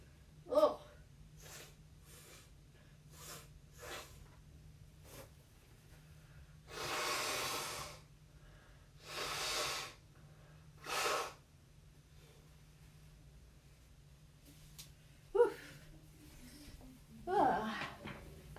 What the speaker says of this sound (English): I need to blow my nose real quick.